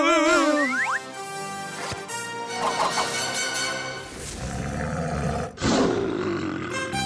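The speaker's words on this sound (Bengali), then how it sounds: "আরে তোতা পাখি হয়ে সিংহের মতো আওয়াজ বার করছিস কেন?" A cartoon lion from a roaming pack gives a loud, close, drawn-out roar amid sweeping springy boing-like tones and comic sound effects, with no talking.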